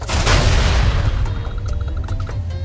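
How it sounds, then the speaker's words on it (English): Explosion in the video game Goat Simulator, a loud deep boom that rolls and crackles with scattered debris pops as it slowly fades, heard alone without talk. "Alright, just one last explosion."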